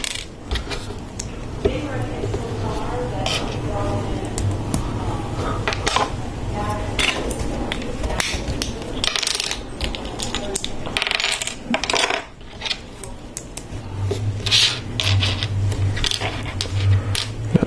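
LEGO bricks and plates from a Christmas build set are pulled apart and handled, producing a busy stream of close plastic clicks, snaps and clattering taps.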